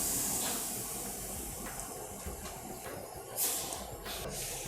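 A pot of rasam bubbling on the stove gives a soft, steady hiss with faint bubbling pops, fairly quiet and continuous throughout.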